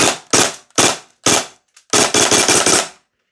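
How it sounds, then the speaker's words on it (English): Maruyama MP9 gas blowback airsoft rifle firing: four sharp single shots, a tiny pop, then a fast burst of five cracks, loud and close with clean silence between. "a 2 or 3 round burst is just perfect for this thing"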